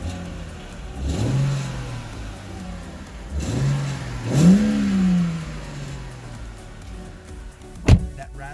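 A BMW E90 325i with its stock exhaust revs up three times from idle, each blip rising in pitch and falling back, the last one strongest, followed by a brief sharp knock near the end; no one talks.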